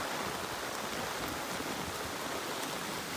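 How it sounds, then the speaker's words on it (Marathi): Heavy monsoon rain falls in a forest, a steady, even hiss of dense water with no breaks, moderately loud and continuous, with no voices. "पाऊस एवढा निबार चालू झालाय"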